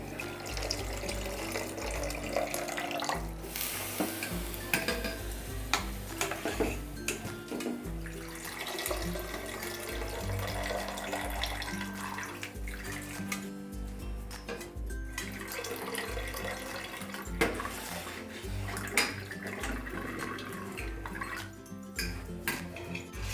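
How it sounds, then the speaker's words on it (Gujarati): Soaked sago pearls drained through a sieve and added to a pot, then stirred for tomato sago wafers: faint watery splashes, dripping and soft metallic scrapes and knocks recurring irregularly throughout. "હવે તેમાં આપણે પલાળેલા સાબુદાણા નિતારીને એડ કરી દઈશું।"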